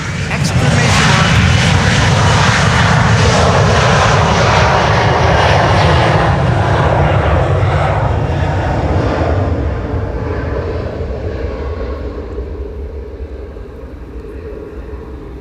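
A Boeing 777 jet takes off from Schiphol's Polderbaan runway 36L, its engines a loud, steady roar that slowly fades as the aircraft climbs away.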